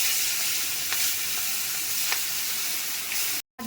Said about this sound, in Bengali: কড়াইতে তেল দিয়ে দিচ্ছি, মাছগুলো ভেজে নেব।